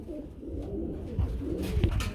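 Pigeons on a breeding farm, of breeds such as Bombay and Modena, coo in low, soft, repeated calls nearby, with a few rustling bumps and no speech.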